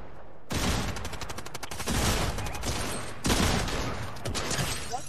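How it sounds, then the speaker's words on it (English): Shotgun fire in a Fortnite No Build duos match: a dense, loud burst of blasts and rapid reports starting sharply, then a second volley after a brief dip, with no talk over it. "Shotguns are OP."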